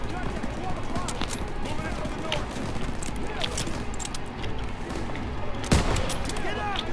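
Bursts of gunfire from the World War II shooter game Call of Duty: WWII, rapid rattling volleys and sharp reports over constant game noise, with a player talking over it.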